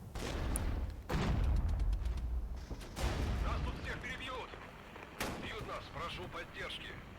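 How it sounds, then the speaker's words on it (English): Mortar and artillery fire in the war video game Regiments: several sharp booming blasts with distinct impacts spread across the stretch, with faint crackling between them. "Let's get a mortar in here."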